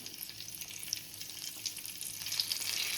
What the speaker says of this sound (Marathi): तेल मस्त तापलं आहे आता मी कढीपत्ता टाकते